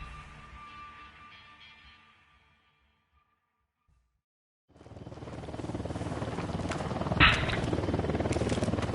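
A drone flying in a video game, a steady loud whirring engine drone that starts abruptly after a near-silent gap, preceded by a fading hum and broken by one brief sharp tone.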